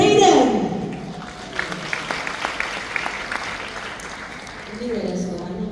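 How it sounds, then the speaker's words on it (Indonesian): Applause from a church congregation at a Christmas celebration, a sustained spread of clapping that swells, holds for several seconds and then fades, with a voice speaking over it at the start and end. "Kasih tepuk tangan dulu buat Tuhan kita saudara"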